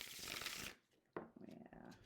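A German-titled Albano Waite tarot deck is riffled and shuffled in a close, crisp burst of card flutter, followed by a few softer card slaps and handling noises.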